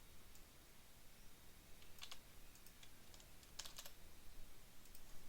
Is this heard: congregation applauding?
no